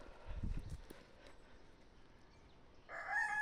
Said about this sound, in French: C'est un concert de cris de coq ce soir.